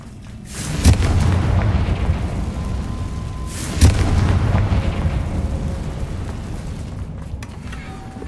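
Two Confringo blasting-spell explosions in Hogwarts Legacy go off a few seconds apart, each a loud sudden crack that flows into a heavy booming rumble, with the second blast fading into a long, hissing decay.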